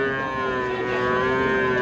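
A young crossbred bull calf at a cattle market lets out one sustained, tonal moo lasting nearly two seconds, close and fairly loud against faint crowd noise.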